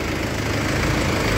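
A Mahindra Yuvo Tech+ 575 tractor engine runs steadily nearby, a continuous loud diesel rumble with no pauses.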